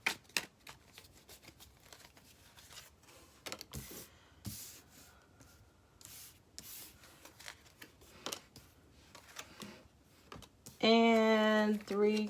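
Rider-Waite tarot cards being shuffled and drawn, with soft papery riffles, slaps and brief flicks scattered through, close by and fairly quiet, ending in a short louder burst of tonal noise.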